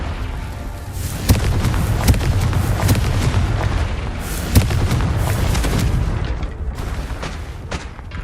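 Confringo fire-blast spells from Hogwarts Legacy burst over a rumbling game soundscape, a few sharp booms landing at irregular intervals over a constant low roar.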